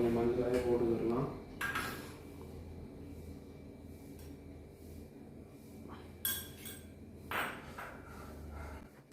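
Stirring coconut milk tea in a pot with a spoon: light metallic clinks and scrapes against the pot come in a few brief bursts, with a low kitchen hum underneath and a voice talking at the start.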